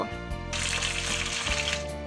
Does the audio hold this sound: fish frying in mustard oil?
yes